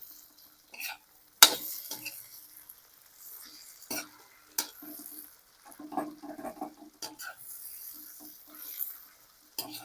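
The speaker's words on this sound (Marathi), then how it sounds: "आता हे बी टमाटे बी आवर्तून परतून घ्यायचे" Chopped tomatoes being stirred and sautéed in a pan while preparing vermicelli, with scattered utensil scrapes and clinks over a faint sizzle, quiet overall with a few sharper knocks.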